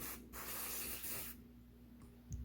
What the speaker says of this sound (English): So I'm just gonna lightly spray this